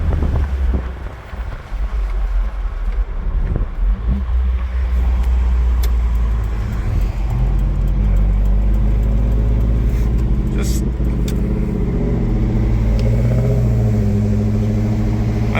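A small mini truck driving on a road, its low engine drone and road rumble steady under heavy wind buffeting on the microphone, with someone talking over it.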